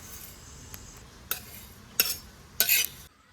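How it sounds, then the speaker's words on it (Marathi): Pearl millet grains crackle and pop while dry-roasting in a pan, giving a few sharp, bright bursts spaced about a second apart, the last a short cluster of crackles, over a faint steady background with no talk. "बाजरी ना अशी कडक झाल्यावर फुटायला लागते बघा"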